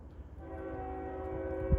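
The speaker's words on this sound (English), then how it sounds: "And there's another train in the background." A train rumbles somewhere in the background on a ridge above Maryland at night, with a steady low drone and sustained horn-like tones that hold throughout, distant and moderately loud with no talking.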